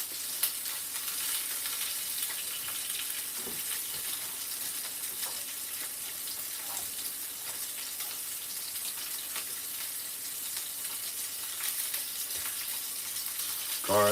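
Garlic pieces sizzling in a frying pan while cooking turkey meat sauce, a steady soft hiss with faint occasional clinks, fairly quiet and continuous with no talk.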